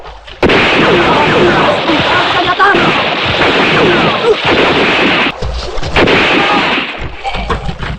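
Rapid bursts of gunfire and heavy blasts fill a war film battle scene as attackers open fire on fighters, loud and close, with overlapping volleys, crashes and rattling shots continuing almost without pause.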